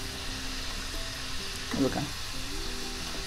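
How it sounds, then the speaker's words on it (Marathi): Food slow-frying over a medium gas flame gives a soft, steady sizzle with a brief stirring scrape near the middle, while a person speaks briefly over it. "मीडियम गॅसवर सावकाश तळून घ्यायचं कारण आतमध्ये चांगल्या भाजायला हव्यात म्हणून"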